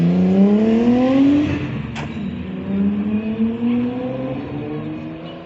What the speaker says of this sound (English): we've got another Nissan in the form of a Skyline departing there